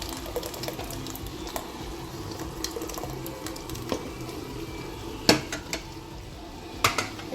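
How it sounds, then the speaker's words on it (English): Blended tomatoes going into a pot of jollof rice base, soft wet pouring and stirring with sharp clinks of a utensil against the pot near the end, fairly quiet and close, no speech. "Now I'm gonna add my blended tomatoes in there."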